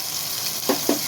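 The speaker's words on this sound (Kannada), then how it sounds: "ಚೆನ್ನಾಗಿ ಎಣ್ಣೆಯಲ್ಲಿ ಹುರ್ಕೋಬೇಕು ಈ ಮಸಾಲಾನ" Masala spices frying in hot oil with curry leaves for a mutton head, brain and heart dish, a steady close sizzle with two brief louder bursts near the end as the mix is stirred.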